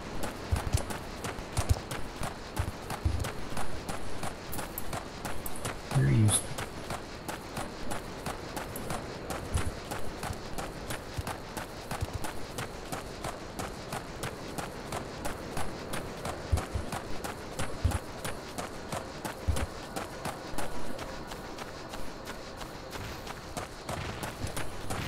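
Rapid footsteps of a character auto-running in Final Fantasy XIV, a steady clip-clop patter repeating throughout amid game ambience, with no talk.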